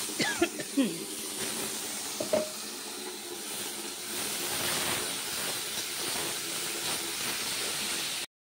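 Bethua greens dropped into hot oil tempered with garlic, nigella seeds and dried red chillies, cooked outdoors in the sun: a steady broadband hiss and sizzle runs throughout, with a few brief clatters near the start.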